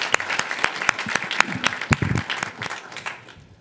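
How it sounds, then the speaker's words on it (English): Scattered clapping from an audience at a city council meeting, a thin run of distinct hand claps rather than a full ovation, a few overlapping voices underneath, tapering off toward the end. "Y'all clap."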